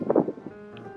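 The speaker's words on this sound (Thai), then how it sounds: "ลมค่อนข้างแรงมากนะครับ" Strong outdoor wind buffets the microphone in a brief gusty rumble that is loudest at the start and then eases into a steady low roar.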